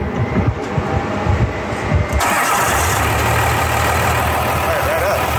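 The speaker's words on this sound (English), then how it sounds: "Fire that up." A Cummins diesel engine swapped into a Chevy squarebody truck cranks briefly and catches, then settles into a loud, steady idle rumble, with voices talking over the cranking.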